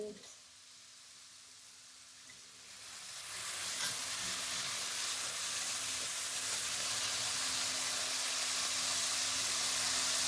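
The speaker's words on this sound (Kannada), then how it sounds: "ಫ್ರೈ ಮಾಡ್ಕೊಳ್ತಾ ಇದ್ದೀವಿ." Sweets fry in a pan with a soft sizzle that swells into a loud, steady hiss of bubbling oil partway through and holds there.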